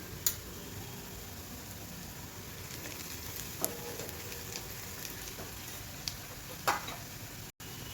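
Onion fried with turmeric and chilli powder for a jackfruit dish hisses in a pan with a steady, even sizzle and occasional faint clicks, alone without talk.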